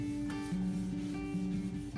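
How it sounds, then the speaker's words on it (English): A cloth rubs finish across reclaimed wood for a headboard, working along the grain in steady, close back-and-forth wiping strokes, with a faint tonal hum beneath. "I tend to keep on wiping it until the excess is gone."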